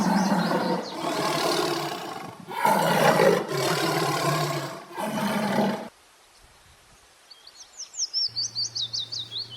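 A tiger gives several long, loud roars in close succession. Afterwards comes a quieter stretch with high chirping bird calls.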